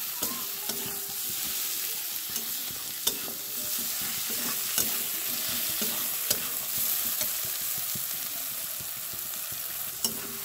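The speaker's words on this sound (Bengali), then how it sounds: "টমেটোটা দিয়ে ভালো করে ভেজে নেব আমরা" Tomatoes sizzle steadily in hot oil with onion, capsicum and chili powder while cooking for pav bhaji, with a continuous close crackle broken by occasional stirring knocks against the pan.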